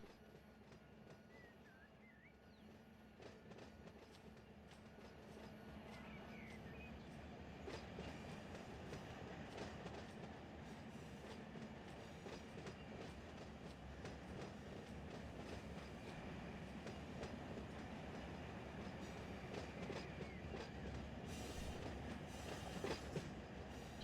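A train rolls along in the Run8 railroad simulator, giving a steady low rumble with clickety-clack from the wheels over rail joints. The sound holds even and moderately loud throughout, with no voices.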